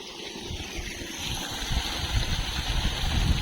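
Pumped water gushes steadily out of a PVC pipe at a village farm, a continuous rushing flow with a low engine-like drone beneath that grows slightly louder.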